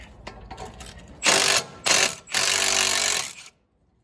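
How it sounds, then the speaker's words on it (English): A ratchet wrench loosens a size 12 brake line fitting on a Nissan Titan during a wheel bearing replacement: three close, loud bursts of rapid ratcheting clicks separated by brief pauses, with no talking. "we're gonna go ahead and take this line loose, which is the brake line, so we can pull that caliper out of the way"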